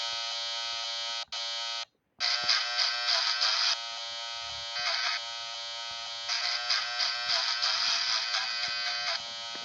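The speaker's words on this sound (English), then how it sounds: "Now I'm going to shave." An electric shaver buzzes loudly and close in a steady, high drone, cutting out twice briefly near the start before running on continuously.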